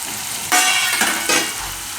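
Gram flour roasts in oil for a bottle gourd and yogurt curry, with loud surges of sizzle as the spatula sweeps through, three close strokes over a continuous frying hiss.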